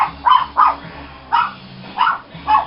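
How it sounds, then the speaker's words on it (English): A dog barks excitedly in short bursts, about six loud, close barks coming in uneven pairs and singles over a faint low hum, with no talk. "The dog was going crazy."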